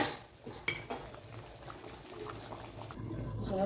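A spoon scrapes and clinks against a pot of bubbling drumstick kara kuzhambu, a tamarind-based South Indian curry, with a few sharp metallic knocks over a low simmering burble, close and moderately loud.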